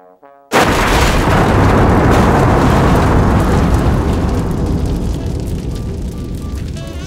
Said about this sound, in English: There's some sound in space. It's a sound weapon.